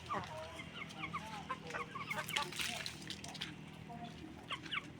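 Several chickens cluck and chatter at feeding time in short, scattered calls at moderate distance over a quiet background hum.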